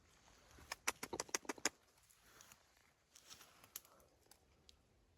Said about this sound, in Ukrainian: Що ти за пташка?